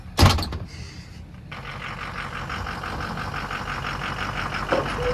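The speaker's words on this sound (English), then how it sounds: "injector not going. Sounded like number 2. Yep, sounding like crap." A truck engine runs rough at idle with a dead number 2 injector, an uneven, steady rumble heard close up after a sharp thud near the start.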